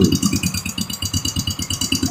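A Yamaha Mio 125 scooter engine with a loose piston knocking against the cylinder liner, a fast, steady metallic rattle that repeats evenly at idle, loud and close.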